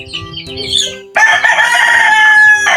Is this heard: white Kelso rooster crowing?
yes